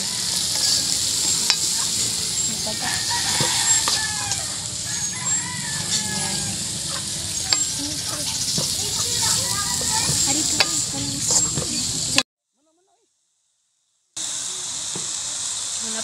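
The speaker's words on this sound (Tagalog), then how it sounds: "At haluluin na po natin." Lumpia and rice are stirred in a sizzling frying pan, a continuous loud crackle with scraping strokes, while a rooster crows in the background and a voice speaks briefly; the sound cuts out for about two seconds near the end.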